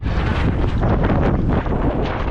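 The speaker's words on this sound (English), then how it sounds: "Bit of a gust." Strong gusting wind roars across the microphone while hydrofoil windsurfing at speed on the water at Coodanup, Mandurah, a loud, continuous buffeting rush with no voices.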